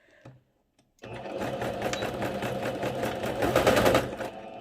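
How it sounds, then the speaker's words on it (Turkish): Sewing machine stitching the lower edge of a fabric tablecloth, a steady close mechanical whirr with rapid needle rhythm, starting after a second of near silence and running continuously to the end. "Aşağı olan kısmı aynı şekilde dikiyorum."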